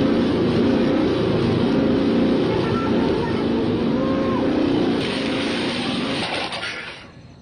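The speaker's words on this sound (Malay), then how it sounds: "Oh, dia pakai exhaust besi rupanya. Patutlah bunyi pom-pom kuat sangat." A loud motorcycle with a modified steel exhaust roars steadily with a dense, booming drone, close and constant, then fades out at the end.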